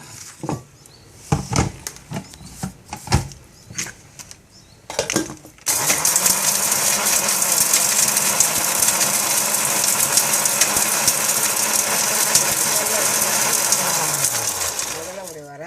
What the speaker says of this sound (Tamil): மஞ்சப்பொடி, தனியா, உளுத்தம்பருப்பு, பெருங்காயம் எல்லாத்தையும் ஒன்றா மிக்சியில் போட்டு